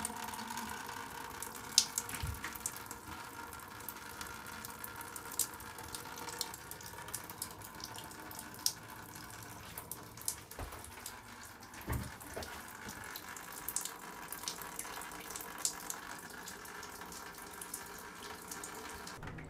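Water streams steadily into a bucket from a popped paint bubble in a ceiling above a bathtub, making a faint, continuous trickle and splash with occasional small knocks.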